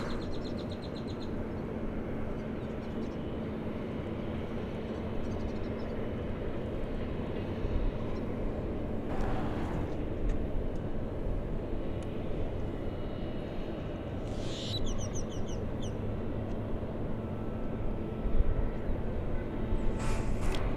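American flight 42, an airliner, landing on runway 18 right at DFW Airport: a steady, broad jet roar that holds for the whole stretch, loud and continuous, with faint bird chirps and brief high squeaks on top.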